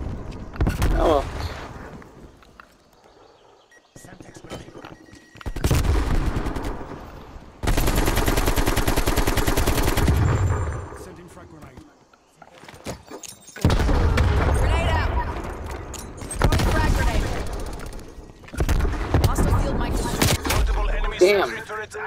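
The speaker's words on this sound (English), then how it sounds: "That's sentry turret, okay." A sentry turret fires in the shooter game Call of Duty: Black Ops Cold War, with loud sustained bursts of automatic gunfire and booms separated by brief quiet gaps, while a player talks over the action.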